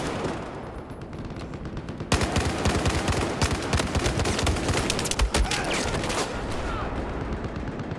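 Battlefield 4 multiplayer gunfire crackles in rapid automatic bursts, a dense, loud barrage of shots that starts after a quieter opening and keeps going, with a player talking faintly underneath.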